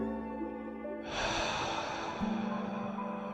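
A deep belly breath is drawn in slowly and released through the nose, a soft rushing airflow close by, rising after a quiet start and holding steady over a low background tone.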